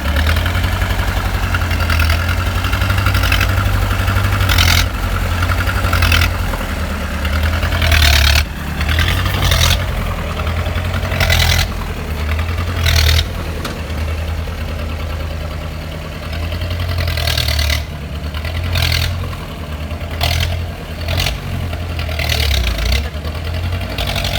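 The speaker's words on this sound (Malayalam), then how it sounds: "സൈലൻസർ പൊട്ടുണ്ട്. അപ്പോൾ നല്ല സൗണ്ട് വ്യത്യാസമുണ്ട്." A 1986 Mahindra jeep idles with a broken silencer, giving a steady, loud, low engine rumble throughout with a rough, uneven character and occasional bursts and knocks over the top.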